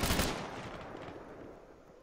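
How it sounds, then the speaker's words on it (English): Gunfire in ARMA 3, a loud burst of shots at the start that fades into a rolling, echoing tail, with no talking. "Dude, they started shooting."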